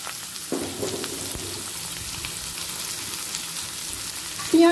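Onions frying in hot oil with bay leaf, dried red chillies and garam masala for a shrimp curry, a steady close sizzle with a brief stirring clatter near the start and a louder scrape at the end.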